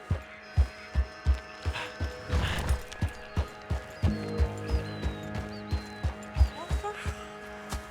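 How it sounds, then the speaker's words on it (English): A horse gallops in Red Dead Redemption 2 with a steady, rhythmic clip-clop of hooves close by. A brief whinny and some mechanical noise sit under a voice. "Horse."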